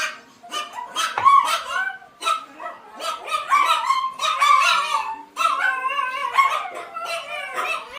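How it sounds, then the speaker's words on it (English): Two Chihuahuas and a Yorkie bark at a house, a loud, close chorus of high yips, barks and howling whines that overlap in repeated bursts without pause. "Hear all the dogs?"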